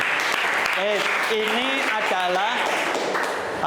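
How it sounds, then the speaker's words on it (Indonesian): A class of students claps hands together, brisk crowded clapping heard close, with children's voices calling out and chattering over it. "Tepuk tangan."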